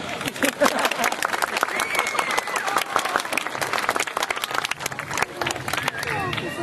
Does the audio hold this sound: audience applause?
yes